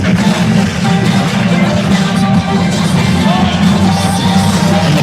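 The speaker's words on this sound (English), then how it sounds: "Crowd cheering for Anthony here." Spectators at a pickleball tournament cheer for a player, a loud, continuous roar of crowd noise with scattered shouts and whoops filling the whole stretch without letup.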